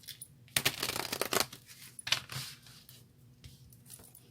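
Tarot deck being shuffled by hand during a card reading, short bursts of riffling and slapping card noise in two main runs with quieter gaps between.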